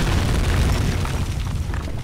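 A loud, continuous rumbling explosion roar with heavy low-end, sustained throughout like a blast echoing in the game Amnesia: The Dark Descent.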